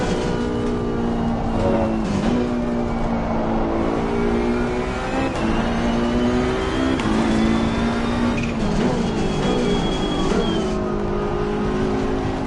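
A Ferrari Challenge race car at Imola in the Assetto Corsa Competizione racing game revs hard and continuously, its engine note climbing and dropping with repeated upshifts and throttle lifts, loud and close with no voices.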